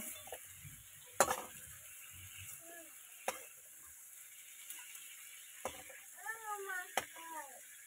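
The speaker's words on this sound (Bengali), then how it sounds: "এই যে চিংড়ি মাছগুলো আমার ভাজা হয়ে গেছে, এগুলো এবার একটু তুলে নেব।" Shrimp frying in a pan give off a steady, faint sizzle, with a few sharp utensil clicks and clatters scattered through it and brief voice-like sounds near the end.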